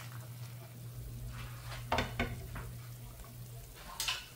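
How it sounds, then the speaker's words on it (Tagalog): Sinigang na tanigue, a sour stew with Spanish mackerel head and taro roots, simmers in a pot with a steady low bubbling hum, broken by a few clanks and stirring noises of the pot and lid. "Buksan natin guys, kumulo na."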